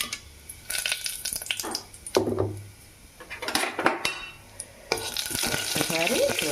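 Whole spices (cumin, cinnamon, cloves, bay leaf, cardamom) stirred in hot oil for a pulao: a spoon scrapes and clinks against the pan under a steady sizzle, with loud bursts of stirring between quieter pauses.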